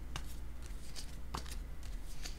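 Playing cards being handled and shuffled during a card reading, a few quiet soft riffles and flicks spaced apart over a low steady background hum.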